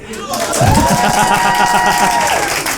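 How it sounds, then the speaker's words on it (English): A live comedy-show audience breaks into loud, sustained applause with cheering, a dense wash of clapping that swells quickly and holds steady for a couple of seconds. "Give me the claps."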